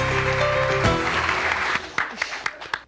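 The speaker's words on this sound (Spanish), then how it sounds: "Un aplauso para nuestros competidores." A studio audience on a TV quiz show applauds steadily, then the clapping thins into a few separate, sharp claps as it dies away.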